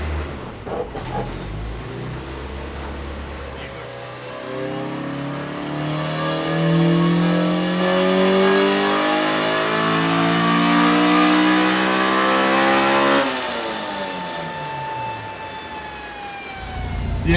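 A Honda car engine revs hard in first gear, its pitch climbing in a long sweep to a high, loud drone before dropping back and trailing off, with no talk over it.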